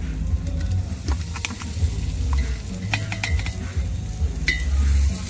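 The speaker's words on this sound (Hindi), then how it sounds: "गार्लिक और जिंजर का पेस्ट डालने के बाद पूरा मिक्स कर रहा हूँ" Garlic and ginger paste stirred in a cooking pot, with a steady sizzle and scattered scrapes and clinks of a utensil against the metal throughout, close and moderately loud, with no talking.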